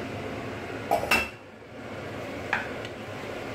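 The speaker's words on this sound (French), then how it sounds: "Et là, je mets des oignons." Onions go into a cooking pot with a few brief metallic clinks and a clatter against the pot, quiet and close over a low room hum.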